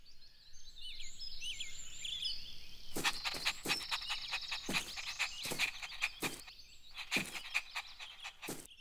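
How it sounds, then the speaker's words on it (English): A common tree frog croaks in a series of sharp, loud, rapid calls in bursts, close by, with softer chirping in the background and no speech. "The common tree frog."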